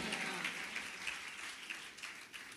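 A church congregation claps together in a steady, fairly faint patter of many hands that continues evenly throughout.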